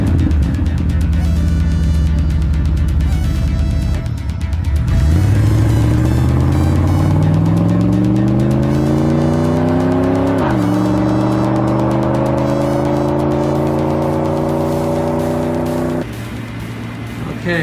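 A pickup truck drives on the road carrying a custom wooden tabletop from Pennsylvania to Manhattan, its engine droning and rising steadily in pitch through the gears as it accelerates, loud and close, with road noise underneath.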